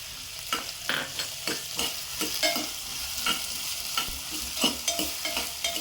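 Vegetables including drumstick and raw ginger frying in a pan for bisi bele bath, with a repeated rhythmic scrape of stirring over a steady sizzle, no voices.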